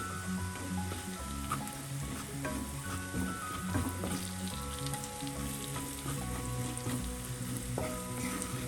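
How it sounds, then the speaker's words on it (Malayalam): Coriander powder and garam masala frying in oil for a bhindi masala, a steady close sizzle with scraping stirs running throughout, background tones underneath. "1 ടീസ്പൂൺ മല്ലിപ്പൊടി, ടീസ്പൂൺ ഗരം മസാലപ്പൊടി എല്ലാം കൂടി ചേർത്ത് ഈ ഓയിലൊന്ന് മൂപ്പിക്കാം."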